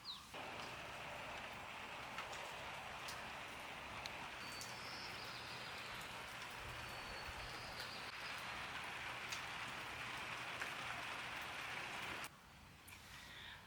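Steady rain falling outdoors in Washington State, a dense, even hiss of drops on leaves and surfaces that continues for over twelve seconds, then drops abruptly quieter near the end, with faint birdsong above it.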